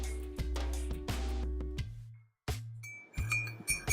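A spoon stirs half and half cream into a cup of coffee, striking the cup in a run of bright, ringing clinks. A short pause follows, then a few more clinks close by with no talking.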